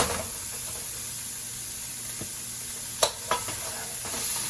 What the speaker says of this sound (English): now I'm gonna add 3/4 of a pound of ground beef to this